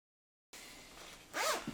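Zip on a Beretta tactical jacket: a single quick zipping stroke close up, brief and fairly quiet, following a moment of silence and faint room noise.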